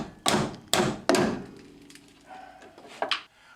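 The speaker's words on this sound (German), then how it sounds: "deswegen gehe ich lieber gleich mit dem Schlagschrauber dran" Three sharp, loud hammering bursts from an impact wrench breaking loose a stiff return line fitting on the steering gear of a Porsche 944, spaced evenly, followed by quieter faint clatter and a final short burst.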